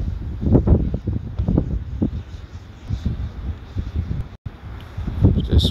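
Strong gusts buffet the microphone outdoors while a Mavic Mini drone flies, giving low rumbling bursts that rise and fall in uneven waves, loud and close.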